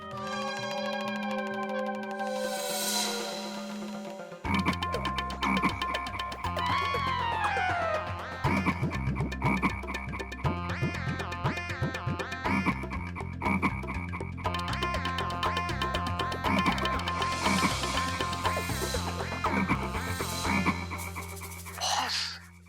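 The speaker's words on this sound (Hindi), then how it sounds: "ये तो तीसरा मेंढक भी आया" Frogs croak loudly and continuously, overlapping in rapid, rhythmic bursts with a few higher twanging calls, close and clear.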